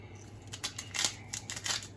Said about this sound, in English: Grind up pepper.